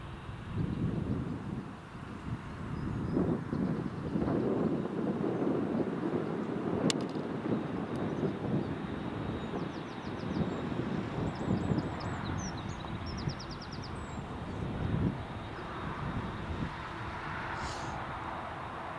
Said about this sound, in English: There's the Dreamliner. He is going very fast.